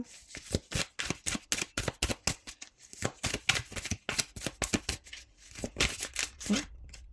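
Tarot cards are shuffled close by in quick, rhythmic riffling bursts with brief pauses, crisp and fairly loud, no talking.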